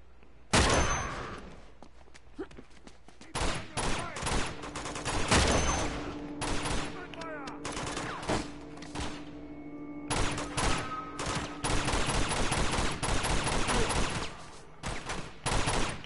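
Pistol gunfire in the video game Uncharted, with bursts of sharp, loud shots in irregular clusters, separated by brief pauses and mixed with other game sounds.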